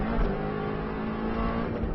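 A Subaru rally car's engine drones loudly and steadily from inside the cabin during an Isle of Man lap, a dense, rough roar with bumps from the car bouncing across the road.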